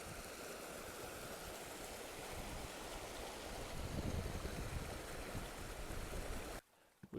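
Milky glacial Whitewater Creek rushing beneath a footbridge in the Mount Jefferson Wilderness, a loud continuous wash of water that swells slightly mid-way before cutting off abruptly near the end.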